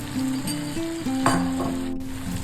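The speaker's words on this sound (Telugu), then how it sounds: "నూనె వేడయ్యాక వీటిని ఒక్కొక్కటిగా వేసి ఫ్రై చేసుకోవాలి" Paneer pieces frying in hot oil in a pan, a continuous close sizzle with a few sharper spits, with tonal background music running underneath and no speech.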